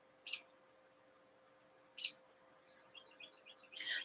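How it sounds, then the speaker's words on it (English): Birds singing outside an open window: two brief chirps spaced apart, then a soft flurry of twittering calls toward the end, faint and distant from inside a quiet room. "The window's open. They're singing."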